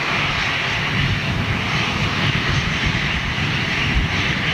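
Airliner engines roaring steadily overhead at Manchester Airport, a broad, continuous rumble and hiss holding loud and even throughout the flyby with no voices.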